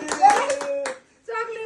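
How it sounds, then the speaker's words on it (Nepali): A handful of quick hand claps ring out at a birthday party, mixed with children's and adults' voices, then a short pause before talking resumes. "ताली बजाऊ"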